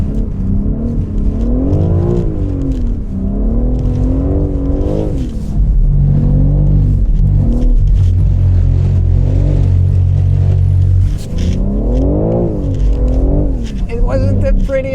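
A BMW M3 Competition held in second gear revs hard through a wide, sideways corner. The loud engine note climbs and falls in repeated surges, with a steady low drone beneath. A voice talks over the engine throughout.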